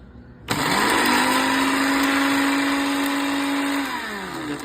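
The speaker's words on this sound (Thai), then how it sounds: "หลังจากคั่วเสร็จนะครับคั่วร้อนมา แล้วเราก็เอามาปั่น" Electric blender grinding freshly roasted chaya leaves into a homemade seasoning powder: the motor kicks in abruptly and holds a loud, steady high whine for about three seconds before winding down, close up with no talking.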